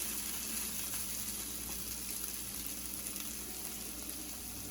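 Cleaned mushrooms are stirred together in a pan, giving a steady, even sizzle and soft frying hiss with no talk.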